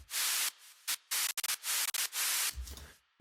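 Bursts of harsh white-noise hiss from a Noise Pump synth preset used as a downer effect, loud and choppy, cutting on and off in short gated blocks, ending in a low thump.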